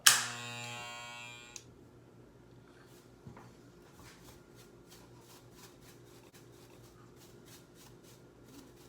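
An electric clipper buzzes loud and close with a bright, humming tone for about a second and a half, then cuts off, leaving faint rubbing and light rhythmic brushing sounds in a quiet room.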